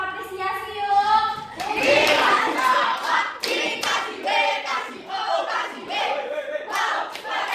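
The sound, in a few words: class applause of appreciation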